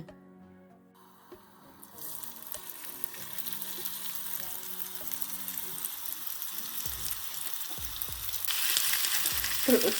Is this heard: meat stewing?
yes